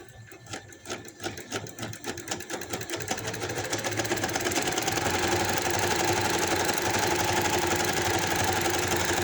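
A sewing machine stitches the hem of palazzo pants, starting with slow, distinct needle strokes that speed up into a continuous, even whir that holds steady to the end.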